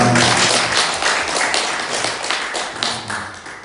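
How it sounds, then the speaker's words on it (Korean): A Korean church congregation claps to welcome its new accompanist: dense, steady applause from many hands filling the room at close range, with no voices over it. "박수 한번."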